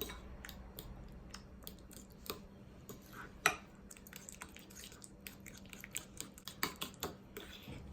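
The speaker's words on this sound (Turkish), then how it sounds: "güzelce hamurumu sürülebilir kıvam şey sosumu sürülebilir kıvam alana dek güzelce karıştırıyorum" A spoon stirs pizza sauce thinned with a little water until it is spreadable: soft, wet squishes and small clicks against the bowl, quiet and close, with no talking.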